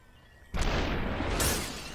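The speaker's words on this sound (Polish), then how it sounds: "Tamtemu głowa wybuchła." An enemy's head bursting in the video game Superhot, a sudden loud shattering blast that hits hard and rings on with a bright crackle, alone without talk.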